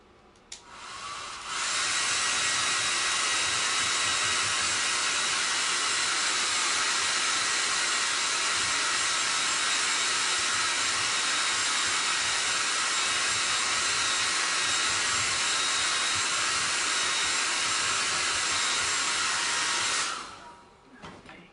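A hair dryer runs steadily for about twenty seconds, drying a craft letter B for a jute-trimmed home door tag. It sounds loud, close and continuous, with a clear start and stop and no talking.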